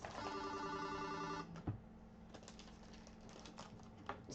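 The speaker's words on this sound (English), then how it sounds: "Sorry, my phone ringing there." Telephone ringing nearby in a quiet room, a steady electronic ring pattern for about a second and a half before it cuts off, followed by faint clicks and handling sounds, with no talk.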